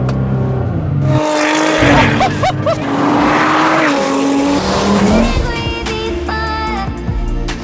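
A Nissan R35 GTR nicknamed Lucifer, tuned to 666 horsepower, driven hard on a stage run, revving engine surging and shifting with brief tire squeal and occasional voices over it.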